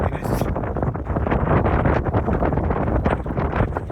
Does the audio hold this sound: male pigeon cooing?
no